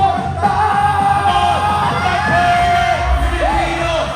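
Live comedy show audience in Perth yelling and cheering together, a dense, loud crowd roar with whoops and shouts sustained throughout, voices overlapping.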